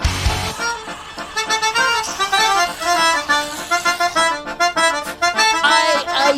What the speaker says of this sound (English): I do believe that that's the sound of a hype train.